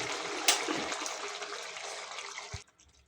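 Cooked rohu fish curry with cauliflower, tomato and potato is poured from one pot into another: a steady splashing, gurgling rush of liquid for over two seconds, ending with a soft thud and then near quiet.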